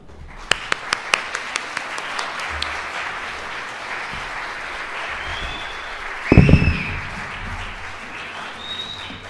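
Audience applause for a keynote speaker at a lecture, a few sharp early claps growing into steady broadband clapping across the room, with a brief louder burst of handling noise near the end.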